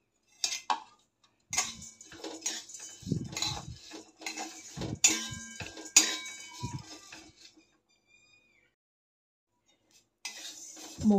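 Moong dal dry roasting in a heavy-bottomed kadhai makes irregular bursts of rattling, clinking and scraping as it is stirred, with quiet pauses between bursts and no voices.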